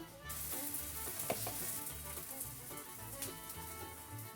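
Round arepa made from Harina PAN sizzling in a frying pan, a continuous close frying hiss with occasional crackles and a low rhythmic background hum, no talking.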